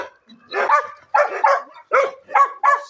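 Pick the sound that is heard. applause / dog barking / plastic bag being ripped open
dog barking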